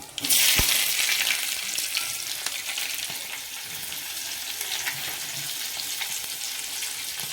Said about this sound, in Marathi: आपण अर्धा चमचा उडीद डाळ घालणार आहे आणि गॅस बंद करून 4 मिरच्या घालूया